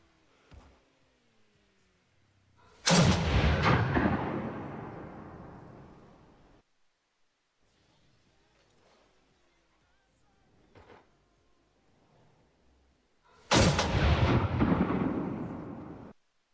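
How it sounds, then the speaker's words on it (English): Two deep, booming blasts of glitched Rocket League fireworks sounding like cannon fire, each rolling off over a few seconds, separated by a long stretch of near silence with faint clicks. "the fireworks at Champions Field after an update went from sounding like normal fireworks to sounding like cannons"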